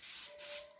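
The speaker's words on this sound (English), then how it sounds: "It's just a 3M classic spray adhesive." Two short bursts of 3M classic spray adhesive, a contact cement, hiss from an aerosol can indoors, close and fairly loud, with a steady tone under the spray.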